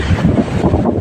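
Strong wind gusting at a beach resort during a monsoon blow, a loud, close rumbling roar buffeting the microphone for the whole moment.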